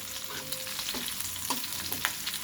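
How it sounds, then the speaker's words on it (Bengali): Cumin seeds spluttering in hot oil left from frying rohu fish, a continuous soft sizzle with small crackling pops, close and alone without talk. "ওই তেলে আর একটু তেল এড করে জিরা ফোড়ন দিয়ে দিয়েছি"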